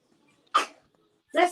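Two short, sharp sneezes about a second apart in a home kitchen, close and fairly loud against near silence.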